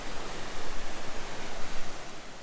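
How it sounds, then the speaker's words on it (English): Waterfall in a slot canyon in Jasper National Park: a dense, loud, unbroken rushing roar filling the space, with no voices. "Look at this waterfall."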